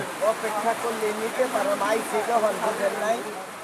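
Rain hisses steadily in the background at a hilsa fish landing ghat while someone talks continuously over it, fairly close.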